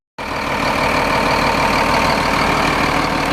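Barton coach engine starting up and revving in a depot during maintenance, a loud, steady diesel rumble that kicks in abruptly and holds at a constant level, close by and with no talk.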